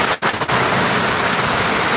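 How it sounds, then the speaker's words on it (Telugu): Heavy rain pours steadily near open farm fields, a dense broadband hiss filling the whole clip after a brief dip at the start, loud and close with no voices. "చాలే ఫ్రెండ్స్, మళ్ళీ వర్షం పడుతుంది"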